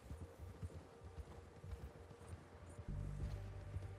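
Horse hooves clip-clopping in Red Dead Redemption 2, a steady run of soft, fairly quiet hoofbeats with a low rumble that grows louder near the end.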